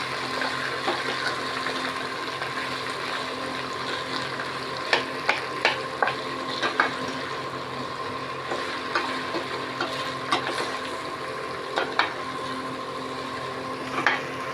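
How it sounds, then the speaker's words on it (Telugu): A small ladle stirs veg haleem in a pan, scraping and clinking steadily against the metal over a soft background sizzle, with a few sharper taps standing out near the end. "దీనికి ఒక చిన్న గరిటె తీసుకొని పై కింద కలుపుకుందాము."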